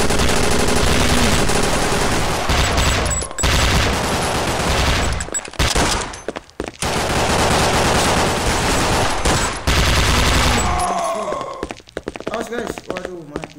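Loud, dense gunfire from the Counter-Strike 1.6 video game, long sustained automatic bursts with brief gaps, heavy and close throughout, with a player's voice talking over it at times.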